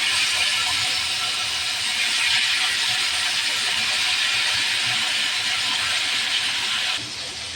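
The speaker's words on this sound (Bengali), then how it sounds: "তেল গরম হয়ে গেছে, দিয়ে দেবো মাছ।" Katla fish sliding into hot mustard oil sets off a loud, steady, broad sizzling hiss close by, running unbroken for several seconds and then easing slightly toward the end.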